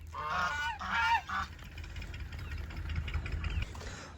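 Hens being let out of their coop squawk loudly in a quick cluster of harsh, honking calls at the start. The calls then fade to scattered cries over a low, steady engine-like rumble.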